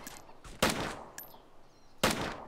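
Video game gunfire, a few sharp shots and short bursts at moderate distance, spaced out over quiet background.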